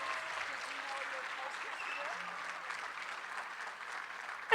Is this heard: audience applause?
yes